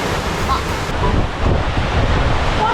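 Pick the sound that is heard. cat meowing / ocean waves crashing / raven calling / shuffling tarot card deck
ocean waves crashing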